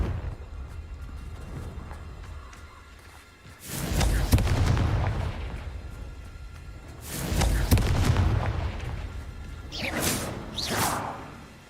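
Confringo blasting spells explode in Hogwarts Legacy, two heavy booming bursts with a whooshing tail, then a sharper crackling flare near the end over a low game background.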